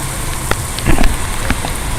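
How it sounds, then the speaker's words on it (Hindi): Steady, dense rain hisses outside an apartment in Lahore with scattered heavier drops and spatters, loud and close. "बहुत मज़ेदार बारिश हो रही है भाई यहाँ पर।"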